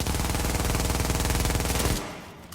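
A PP-19 fitted with a rate-of-fire magazine in The Division video game lets off a dense, rapid burst of automatic gunfire lasting about two seconds, loud and close, then cuts off abruptly into a brief fading tail.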